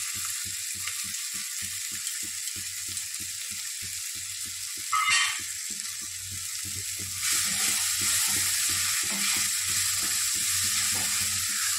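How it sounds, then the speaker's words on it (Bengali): Noodle masala fries with spices and vegetables in a pan, a rapid regular scraping rhythm of stirring over a continuous close sizzle that grows brighter toward the end. "আমার সব মশলা এবং সবজি ভাজা হয়ে গেছে। এবার আমি নুডলস মশলাটা"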